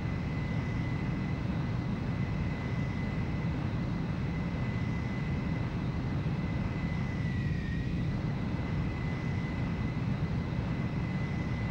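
Fighter jet engine roaring steadily on landing approach in Ace Combat 04: Shattered Skies, a constant loud broadband rumble with a thin high whine above it, unbroken and without talk.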